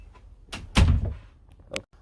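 Indoor door at a home entryway moving open and shut, with a soft creak, then a heavy thudding close in the middle, and a lighter knock near the end.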